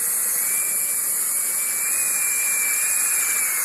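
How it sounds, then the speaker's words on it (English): A power drill drives self-drilling screws into a factory brace inside a GMC Acadia, a steady high whine that is loud and close and runs without a break. "take our drillers, self-drillers, and go up and secure it"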